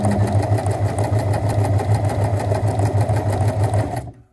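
A sewing machine runs steadily, stitching a long skirt seam at a 1.5 cm allowance, its rapid even motor hum and needle rhythm holding for about four seconds before stopping abruptly.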